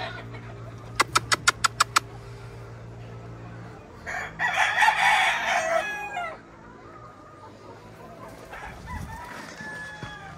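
A white Hatch gamecock rooster on a game farm crows loudly once, a full cock-a-doodle-doo in the middle of the clip, after a brief burst of sharp clicks, with faint farmyard background and no talk.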